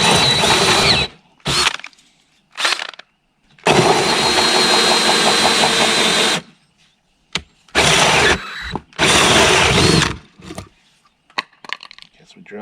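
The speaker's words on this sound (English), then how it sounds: "Guess we drill faster, it goes faster." A power drill whirs loudly in repeated bursts of varying length, stopping and starting with short quiet gaps between runs, drilling to mount custom tail lights on a Harley-Davidson bagger motorcycle.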